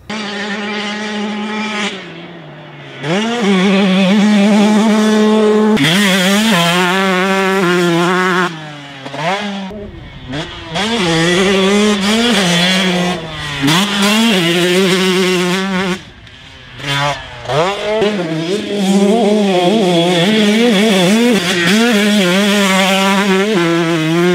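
A lowered Husqvarna TC125 two-stroke motocross bike is ridden hard, its high, buzzing engine repeatedly revving up and dropping through gear changes. It stays loud and close throughout, with brief dips off the throttle.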